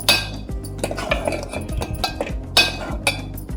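A utensil repeatedly scrapes and clinks against a metal pot of South Indian buttermilk curry (mor kuzhambu) in an uneven stirring rhythm, close and fairly loud, with no talking.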